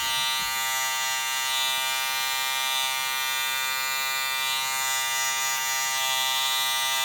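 Electric Oster hair clippers cut hair over a comb during a home haircut on an older man. They give a close, constant buzzing hum that holds steady for the whole stretch, with no voices.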